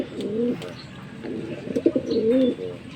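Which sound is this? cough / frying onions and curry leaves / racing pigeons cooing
racing pigeons cooing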